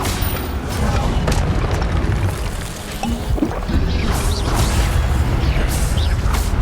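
Incendio fire spells and combat blasts from the Hogwarts Legacy video game crash and boom repeatedly through a dense, loud roaring mix, with sharp impacts scattered throughout and no break.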